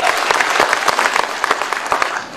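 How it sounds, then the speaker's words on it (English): Sustained audience applause at a DXN company seminar, a dense wash of many hands clapping steadily and fairly loud throughout, with no talking over it. "Give a round of applause to yourself."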